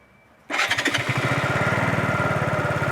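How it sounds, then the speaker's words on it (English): A Zontes G125 motorcycle, already warmed up, fires into life after a half-second of near silence, then settles into a loud, steady, rapidly pulsing single-cylinder idle close to the microphone. "let's shut it down and see how well it starts up now that it's properly warmed up"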